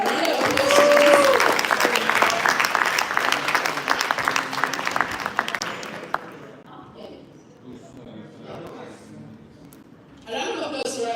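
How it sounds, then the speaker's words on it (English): A round of applause for a speaker at an association annual conference: dense clapping from an audience that builds, fades after about six seconds and leaves a quieter room before a voice speaks over it. "Rajon, round of applause."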